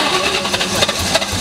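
Engine of a 2003 Cobra car that has trouble starting, heard as a brief rough cranking with a ragged, sputtering rumble that is close and fairly loud, with no clear catch.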